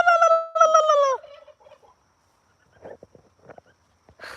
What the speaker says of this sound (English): He is way louder, way more active than any other male turkey we've had.